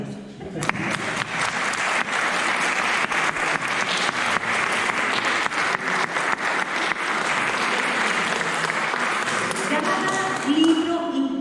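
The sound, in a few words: audience applause at literature talk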